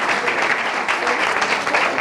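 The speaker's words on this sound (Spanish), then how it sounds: "un aplauso también a la UMH que colabora con nosotros" An audience at a public science talk on cold-drop storms gives steady, dense applause that fills the room for the whole stretch, loud and continuous.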